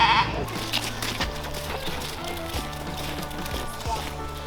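Sheep bleat at a county livestock fair: several wavering, overlapping calls, one loud near the start, then others repeating steadily against a low background murmur of the show barn.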